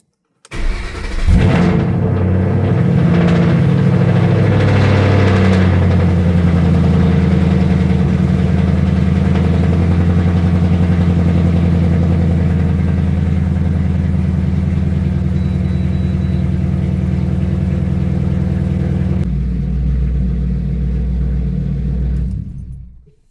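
A Ford Mustang S197 cranks and fires up, then settles into a loud, steady, close-up idle that holds for about twenty seconds before the level drops slightly near the end, with no talking.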